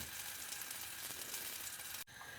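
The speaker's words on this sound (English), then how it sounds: "Yeah, butter is melting." Butter melting in a pan gives a dense, steady sizzle and crackle, close and even throughout, with a brief dip near the end.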